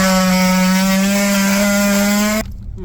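Excess 1980s plastic trimmed from a 1988 Buick Electra Park Avenue glove box with a power cutting tool, a loud steady whining buzz with strong harmonics running about two and a half seconds before cutting off abruptly.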